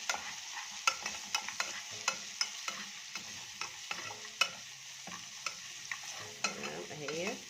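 Garlic and dried coriander fry in melted ghee in a pan while a spoon stirs them, steady soft sizzling with regular scraping knocks of the utensil, close up and with no talking.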